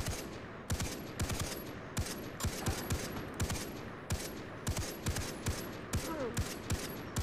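Repeated gunshots in the jungle shooter Far Cry 3, spaced sharp cracks at a fairly steady rhythm with a few quicker doubles, moderately loud over a low ambient bed.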